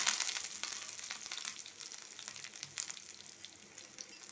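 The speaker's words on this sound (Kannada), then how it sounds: "ಗೀ ಹೀಟ್ ಹಾಕಿದೆ, ನಾನು ಸಾಸಿವೆ ಹಾಕ್ಕೊಳ್ತೇನೆ." Mustard seeds sizzling and frying in hot ghee, a steady close crackle with scattered faint pops throughout.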